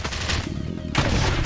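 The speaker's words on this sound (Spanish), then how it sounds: "¿Empezamos a tirar granadas ya o qué?" Grenades exploding in the survival video game Last Day on Earth: two dense, loud blasts of broadband rumble, one at the start and another about a second later, with no talking.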